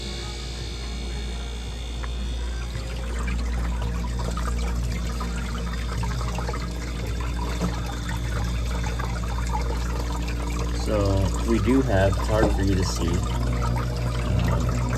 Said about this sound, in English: we do have a nice steady flow of water over the edge, okay, all the way